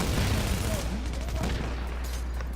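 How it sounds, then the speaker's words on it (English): Video game gunfire from The Division, a rapid burst of shots and rumbling blasts up front over a low continuous drone, with faint voices mixed in. "there's a lot of like gunfire and explosions and shit"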